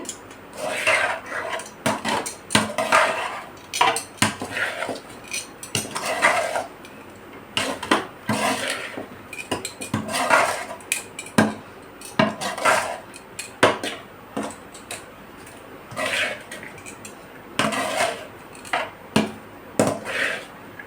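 A spoon scrapes and knocks against a pan as cooked rice is stirred for Tamil-style chicken fried rice, with repeated close metallic clatters and scraping strokes in an irregular rhythm and no talk.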